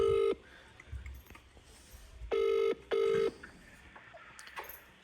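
A phone rings unanswered, three long electronic tones with gaps between them, fairly quiet, over faint room noise and a few soft clicks.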